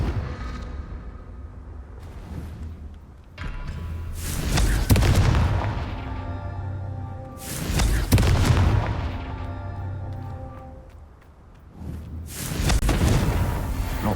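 Confringo fire spell explosions in Hogwarts Legacy on Xbox Series X sound as three heavy booming blasts spaced a few seconds apart, each one bursting loud and then fading into a rumbling tail.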